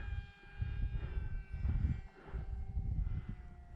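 A small propeller engine of an E-flite Aeroscout radio-controlled model airplane drones overhead, its pitch rising and falling in waves as it passes, with wind rumble underneath.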